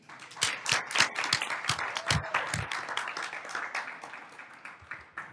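Audience at a school district governing board meeting applauds a staff member standing to be honored, steady clapping from a roomful of people, moderately close, continuing several seconds and thinning toward the end.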